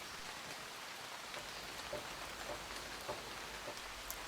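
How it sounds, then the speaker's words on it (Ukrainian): Steady rain falls in a soft, continuous hiss in the Carpathian mountains, with occasional distinct drops tapping nearby; no voices. "А дощ все не вщухає"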